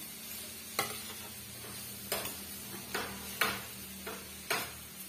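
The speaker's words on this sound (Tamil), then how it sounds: "தேங்காய் துருவல் சேர்த்துட்டு ஒரு 2 மினிட்ஸ்க்கு வதக்கி விட்டுக்கனாலே போதுமானது." Grated beetroot and coconut sauté in a pan for a beetroot poriyal, with five or six distinct spatula scrapes and stirs over a faint, low sizzle, close and fairly quiet.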